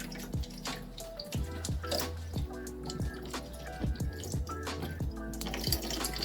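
Excess water drains and drips from a freshly watered orchid pot into a sink, a close, irregular patter of plinking drops over a soft trickle.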